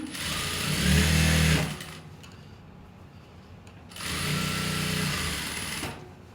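Sewing machine stitching a kameez seam, running in two steady bursts of a second or more each with a quiet pause between, close and fairly loud.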